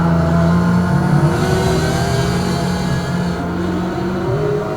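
GT300 race cars accelerate hard in a racing game, racing along a straight toward a hairpin. Loud, close engines give a dense, continuous roar with strained, slightly rising whines layered over a heavy low rumble.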